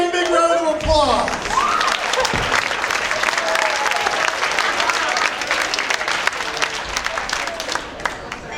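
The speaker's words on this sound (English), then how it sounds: "Give him a big round of applause." Audience applause at a university dance marathon fills the hall, dense sustained clapping with some cheering, beginning after a brief spoken line and continuing loudly throughout.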